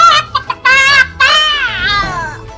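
A chicken in the video game GTA 5 gives a few short clucks, then longer warbling, rising and falling calls, clear and close.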